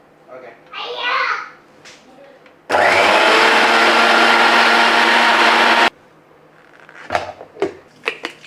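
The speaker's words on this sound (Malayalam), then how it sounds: "ആരും കൂടെ മിക്സി ഓണാക്കാണേ," Mixer grinder blending sautéed tomato chutney ingredients, a loud, even whirr lasting about three seconds, bracketed by a voice and other talk before and after.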